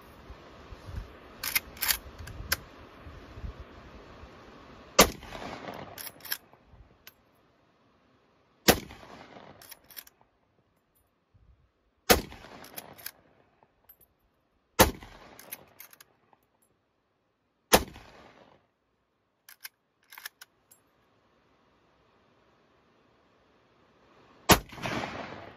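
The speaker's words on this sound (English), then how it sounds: "just going to pop off 6 rounds and see how it goes." Six rifle shots from a .30-30 Winchester fired outdoors in sunshine, each a sharp, loud crack with a short decaying echo, spaced a few seconds apart after some early handling noise.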